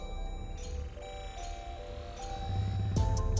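A 2020 Jeep Grand Cherokee Limited X is push-button started in cold weather: soft dashboard warning chimes ring first, then the engine cranks and catches near the end, settling into a louder idle.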